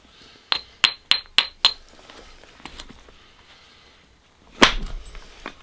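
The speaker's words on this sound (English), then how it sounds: "This soft hammer's getting really bashed in now" A soft hammer knapping a stone into a dagger gives five quick, sharp close strikes in a row, then, after a quiet pause, one louder crack.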